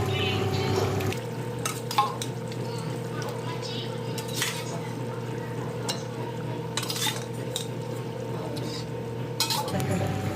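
A ladle stirs nethalu (small dried fish) curry simmering with tomatoes and green chillies in a pot, scraping and clinking steadily over a low bubbling boil, with a few sharper metal taps near the start.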